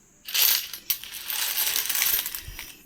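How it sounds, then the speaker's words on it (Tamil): Ethiopian coins from a collection tumble and clatter onto a surface, a dense metallic jingling that builds quickly and rolls on with scattered sharper clinks, close and fairly loud with no voices. "இது ஒரு நாணயம் 110 ரூபான்னு விற்றுட்ருக்கேன்"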